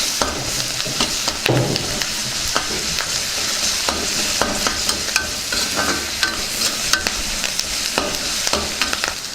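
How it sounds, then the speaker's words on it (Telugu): Curry leaves and ginger-garlic paste sizzle in hot oil while a spoon stirs them, scraping the pan again and again over a steady frying hiss, close up with no voices, for a pea and paneer curry. "కాస్తంత అల్లం వెల్లుల్లి పేస్ట్ వేసుకుందాం దీన్ని కూడా బాగా కలుపుకుందాం"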